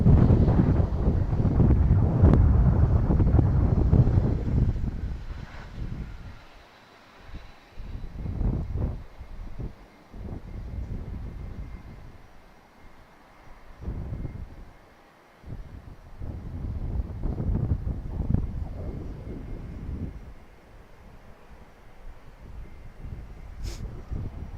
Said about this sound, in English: Little Phenom getting buffeted by those winds